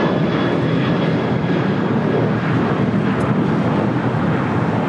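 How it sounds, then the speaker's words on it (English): Alaska Airlines Boeing 737-800 taking off, a dense, continuous jet roar at high level with strong low rumble and wind noise, no breaks. "1315 taking off to Portland on the 737-800."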